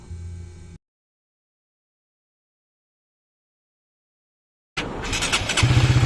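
An RS 150 motorcycle, just repaired after stalling on a trip, starts up after a long silence, its engine catching and settling into a close, steady idle near the end.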